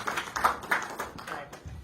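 A short burst of scattered clapping from a small group, fairly faint and uneven, fading out within a couple of seconds.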